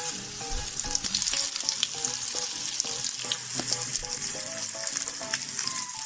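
Fish frying in a pan of slightly dirty oil at a home fish fry, a loud, steady sizzle with bubbling crackle and occasional stirring clinks, close up and without talk.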